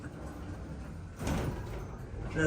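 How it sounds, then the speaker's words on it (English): Hotel elevator doors sliding open at a newly renovated Hampton Inn in Spring Lake, NC, a steady low rumble with a smooth sliding sweep midway, close by with no speech. "let me see if this elevator is working"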